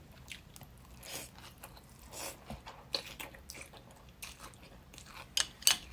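Close, crisp crunching bites and wet chewing of deep-fried chili peppers eaten with Thai rice noodles, several sharp crackly bites spaced irregularly with no talk.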